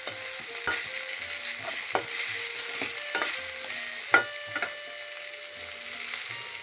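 Drumstick flowers being fried in a pan for a chorchori, a soft continuous sizzle broken by several sharp scraping stirs of a spatula, close up with no talk.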